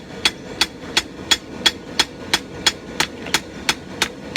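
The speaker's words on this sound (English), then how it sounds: "got the old dog's head hammer out, just finishing drawing down these bevels" A dog's head hammer strikes hot steel while drawing down the bevels of a kukri knife, a dozen sharp ringing blows in a steady, even rhythm, close and clear with no talking.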